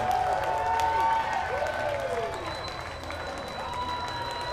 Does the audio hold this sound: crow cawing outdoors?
no